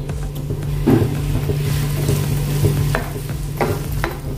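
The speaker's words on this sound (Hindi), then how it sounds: "प्याज को हम भुनेंगे।" Four medium chopped onions fry and crackle in a pan while a spoon stirs them, with a steady close sizzle and a few louder scraping knocks, no talking.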